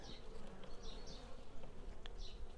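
Honey bees buzzing around the hive frames, a close, continuous droning hum with individual bees whizzing past now and then.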